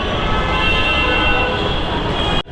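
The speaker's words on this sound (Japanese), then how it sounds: "ちょうどメトロが来ました。" A Delhi Metro train arriving at Sikanderpur station, where riders switch to the Yellow Line, makes a loud, steady rumble and hiss with a high tonal whine that cuts off abruptly at the end.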